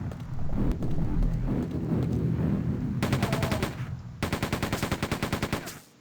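Rapid bursts of automatic gunfire from Quake 2 crack out in two sustained volleys, a short pause between them, over a dense, rumbling game background.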